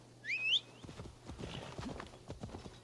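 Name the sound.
horse galloping in the video game Assassin's Creed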